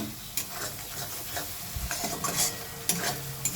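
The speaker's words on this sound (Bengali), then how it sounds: "ভালো করে মশলাটাকে কষিয়ে নেবো যতক্ষণ তেল না ছাড়লে" A spatula scrapes and stirs masala frying in oil in a wok for chicken skin bhuna, sharp scraping strokes every second or so over a low, close sizzle, no one speaking.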